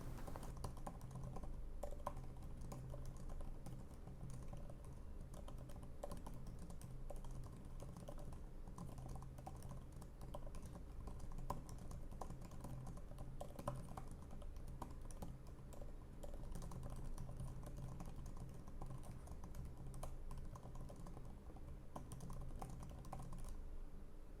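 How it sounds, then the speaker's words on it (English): Steady, quiet clicking of keys being typed on an Apple Magic Keyboard for tablet, continuous and close, with no voices. "Here's some typing on the Magic Keyboard so you can see and hear the typing sounds."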